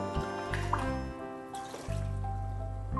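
Fresh coconut water trickles and drips through a sieve into a container, a soft, close liquid patter over a steady low hum with no talk.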